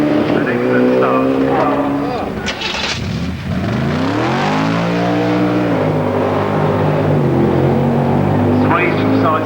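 A race car at the Brighton Speed Trials accelerates hard through its gears, its loud engine note rising in repeated sweeps with brief drops at shifts, while a commentator talks over it.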